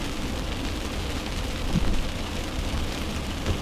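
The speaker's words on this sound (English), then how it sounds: "it is raining right now" Steady rain falling outdoors during a drive makes a dense, even hiss throughout, with a few faint low rumbles and no talking.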